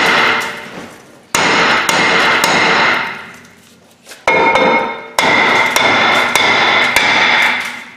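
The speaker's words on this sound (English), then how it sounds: "So we're gonna give her a few whacks." Heavy hammer blows ring out on rusted metal parts, loud and close, several sharp strikes with ringing decay between them.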